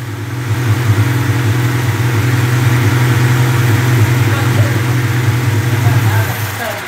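A car engine fitted with Weber 40 carburetors idles with a deep, steady loud rumble and slight revving swells, running continuously for several seconds.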